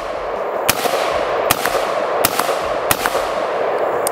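An AR-15 pistol fired single-handed gives four sharp shots at uneven intervals, each a brief loud crack over steady outdoor background noise, with no talking.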